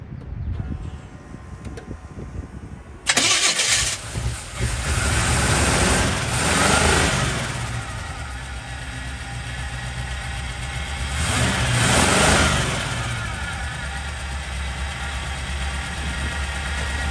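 A 1964 Chevy C10 pickup, off the road for seven years, cranks and fires after a quiet stretch, then its engine runs loud and rough, swelling through two revs before settling into a steady idle.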